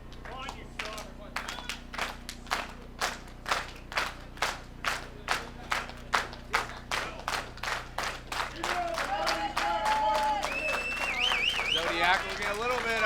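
A crowd at an FGW Shockwave wrestling show claps in a steady rhythm as the match begins, with regular loud claps that later give way to commentators talking over the arena noise.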